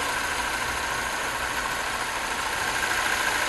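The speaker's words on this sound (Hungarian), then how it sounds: "Nagyon, nagyon kellemesen jár benne a motor, nagyon egyenletesen." The engine of a Nissan Note idles with a steady, even hum, a smooth continuous drone with a faint whine, moderately quiet and close, with no other sounds.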